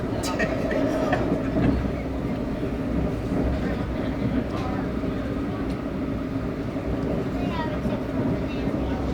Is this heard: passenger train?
yes